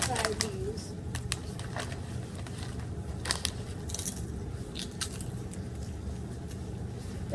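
Crunchy, oily potato chips being bitten and chewed close to the ear, sharp crackling crunches in irregular bursts over a low rumble of passing car noise, with people talking around them.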